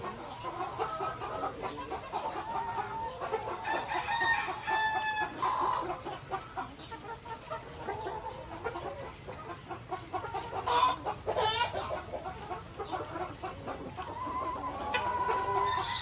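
Layer hens in the cages of an egg layer farm cluck steadily throughout, with several birds overlapping at close range and occasional louder squawks rising above the dense flock chatter.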